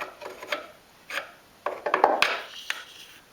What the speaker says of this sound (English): So I've got the wallpaper scraper here and my small hammer, and I'm just going around making sure that everything's smooth enough to start again